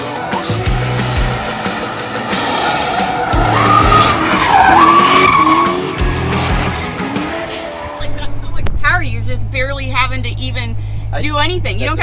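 A supercharged car spins through donuts with its tires skidding and squealing loudly. A low engine roar runs underneath, and a voice talks over parts of it.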